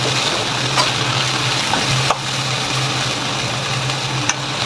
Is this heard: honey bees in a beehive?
no